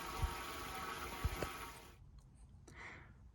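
An oil extractor drawing air through a car's dipstick tube after most of the oil is out, giving a steady broadband hissing gurgle for two seconds that drops off into quieter faint sputters.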